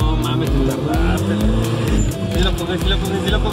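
A modified VW Jetta MK3 revs and accelerates hard in loud, pulsing bursts, with tire squeal mixed through a dense roar, while people talk and shout over it.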